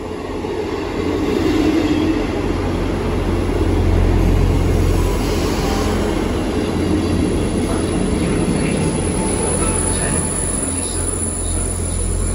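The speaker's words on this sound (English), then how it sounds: "The 1036 Southwestern Railway service from Romsey to Salisbury" South Western Railway class 158 diesel unit at Southampton Central station, a loud, continuous low engine rumble and rolling wheel noise with a faint high squeal, heard up close from the platform, with no talking.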